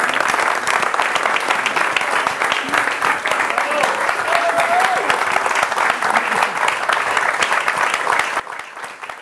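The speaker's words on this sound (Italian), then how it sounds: "Un applauso!" Audience applause at a record label's tenth anniversary celebration, dense and loud clapping sustained for about eight seconds before dropping off sharply at the end.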